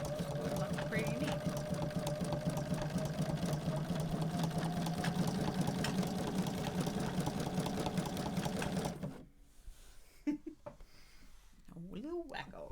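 A Bernina sewing machine runs steadily with a twin needle, stitching a zigzag in a continuous fast whir for about nine seconds before stopping, after which only a person's voice is heard.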